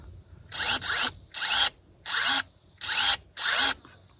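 Electric pruning shears, Seesii brand, snapping through branches in six quick bursts, each a loud motor whine and cut lasting under half a second, spaced evenly, then a short final blip; close and clear with no talk.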